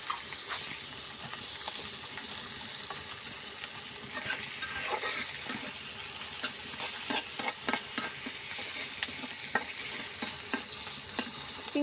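Chopped onions sizzle continuously in hot oil in a pan as they are stirred, with frequent scraping and tapping of the utensil against the pan; close, moderate level and no voices.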